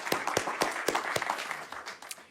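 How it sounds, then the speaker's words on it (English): Audience clapping at a community event on a university campus, a smaller round of applause with distinct individual claps, fairly close and moderately loud, thinning out toward the end. "Can we have a round of applause for Cynthia Mitchell-Hurd and the entire team at Los Angeles Urban League?"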